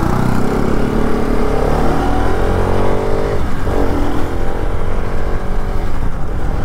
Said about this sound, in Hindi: अभी आप लोगों को थोड़ा सा राइड करके बताऊंगा कि ये बाइक कैसा है